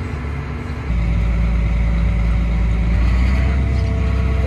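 A used tractor engine runs steadily close by, a low idling rumble that grows louder and fuller about a second in and then holds an even drone.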